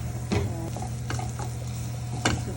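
Cut green chilies frying in a pan for a Telugu drumstick curry (mulakkada pulusu), with a steady low sizzle throughout and a few sharp clinks of a stirring spoon against the pan, close and fairly quiet, with no talking.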